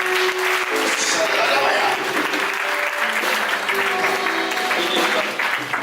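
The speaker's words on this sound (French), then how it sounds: "Clap for Jesus. On acclame Jésus." A church congregation at a prophetic worship service applauds. Loud, sustained clapping fills the whole stretch, with voices speaking over it.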